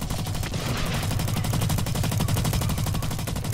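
Rapid, unbroken automatic gunfire in the shooter game Blacklight: Retribution, a loud, evenly pulsing stream of shots that runs throughout without pause.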